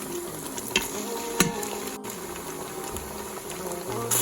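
Hot blended pepper being stirred into simmering yam porridge in a pot, a soft steady scraping and bubbling with occasional louder spoon knocks, close and alone without talk.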